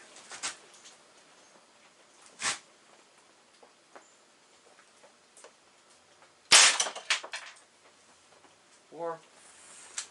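A Crosman 2240 air pistol fires across a chronograph: a few sharp, dry pops spread over several seconds, with one louder crack followed by a brief rattling tail, in an otherwise quiet outdoor space.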